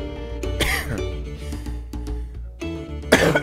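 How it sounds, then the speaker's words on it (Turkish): A person coughs and clears their throat several times in short bursts, with faint music playing underneath. "Allah öksüreceğim tutuyor."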